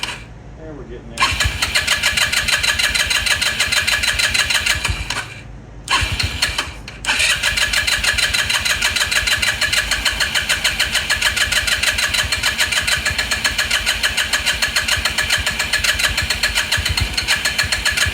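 A Lance Cali Classic 125cc scooter engine cranks and catches, cuts out briefly twice in the first seconds, then settles into a loud, continuous close-up running chug.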